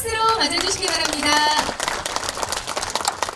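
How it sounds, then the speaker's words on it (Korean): An audience at an outdoor rice-terrace restoration ceremony in Hamyang gives a short burst of clapping, with a voice talking over it. "큰박수로 맞아주시기 바랍니다"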